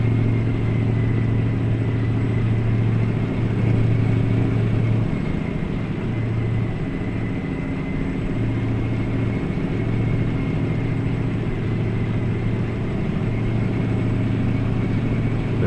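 A Mack truck engine, around 605 to 610 horsepower, pulls steadily in American Truck Simulator, giving a continuous low droning rumble at even loudness with no talk over it.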